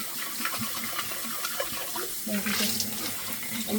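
Tap water runs into a sink to rinse a glass bottle, a steady splashing flow that grows fuller and louder partway through as the stream hits the glass, close by with no speech.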